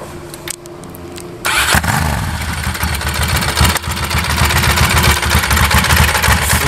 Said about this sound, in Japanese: ちょっとエンジンをアイドリング聞かせていただきましょうかね。